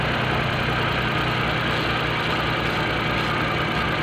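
A car engine idles steadily during an ignition coil test, a continuous loud mid-to-low hum with faint rhythmic roughness and no talk over it.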